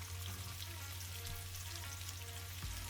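Chopped onions sizzle in a pot with dark-toasted methi seeds, a steady close frying crackle with a low hum beneath and no talking.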